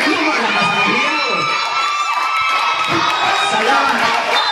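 A crowd at a semifinal basketball game cheers and shouts loudly and continuously, with excited whoops and children's voices rising throughout.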